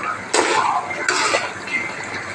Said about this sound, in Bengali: এবার দেবো একটু ঘি। মশলা একটু মিশিয়ে নেব।